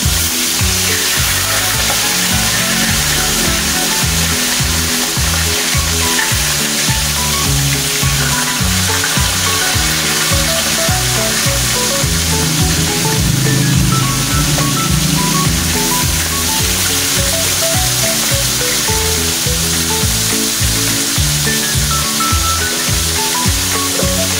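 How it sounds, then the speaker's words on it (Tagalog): Steady crackling sizzle of fish heads frying in hot oil, dense and close, continuing without pause and with no voices. "At habang nagpiprito po tayo"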